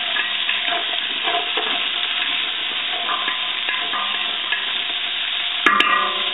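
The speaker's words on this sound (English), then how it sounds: "Stir it around real quick." Vegetables frying in oil for a stew, a continuous close sizzle with scraping stirs throughout and a sharp metallic clatter of the utensil near the end.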